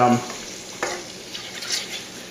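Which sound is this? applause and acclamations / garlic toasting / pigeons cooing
garlic toasting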